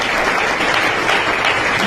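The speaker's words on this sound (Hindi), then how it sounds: "जोरदार ताली बजाएं प्रभु की उपस्थिति के लिए" A church congregation claps loudly and continuously, a dense, sustained wash of applause filling the room with no voices rising above it.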